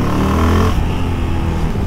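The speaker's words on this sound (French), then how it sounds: "J'adore quand la roue elle se lève et que la moto fait ça un peu" A single-cylinder supermoto motorcycle accelerates hard, its engine roaring loud and close, then the pitch drops and the sound eases into a rougher, lower rumble.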